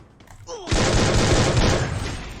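Rapid bursts of M14 rifle fire in the Free Fire shooting game, a loud, dense volley of closely spaced shots lasting about two seconds after a brief quieter lead-in with faint voice.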